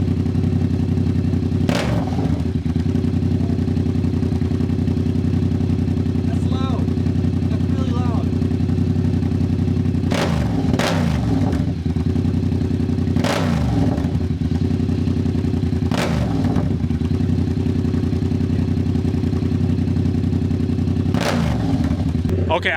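A Yamaha R7 motorcycle fitted with an aftermarket eBay exhaust idles loudly and steadily, then is revved in several sharp, loud bursts spaced a few seconds apart, each one rising and falling back to idle.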